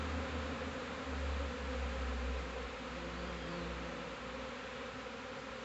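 A swarm of Apis honeybees arriving, a dense continuous buzzing drone that fills the air at low level and holds steady with no voices.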